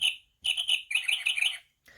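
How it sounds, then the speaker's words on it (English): A small bird chirps from its nest, a quick run of bright, close tweets in short bursts, clear and alone against silence. "From her snug nest, the little bird watched and chirped."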